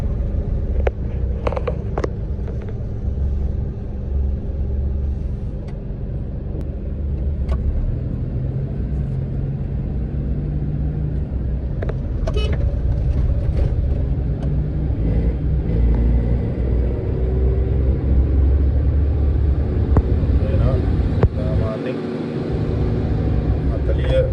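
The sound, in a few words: car engine racing in second gear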